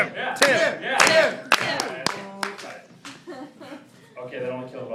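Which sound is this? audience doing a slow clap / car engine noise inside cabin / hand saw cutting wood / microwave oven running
audience doing a slow clap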